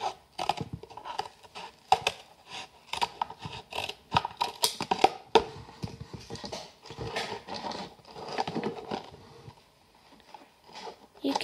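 Scissors snip and crunch through craft material while cutting a small hatch in a handmade model, an irregular run of close clicks and cuts with a voice talking intermittently.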